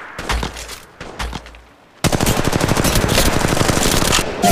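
Automatic weapon fire in the mobile shooter game Apex Legends, two short bursts followed by a long, loud, rapid stream of shots after a brief pause.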